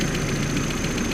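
An Audi car engine runs at a steady idle after an oil leak repair, a close, continuous low rumble with a fast, even pulsing beat and no talking.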